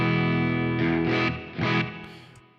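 Electric guitar played through a Beetronics Fat Bee overdrive with reverb placed before the speaker impulse response, giving a few sustained distorted chords with a reverb tail trailing off at the end.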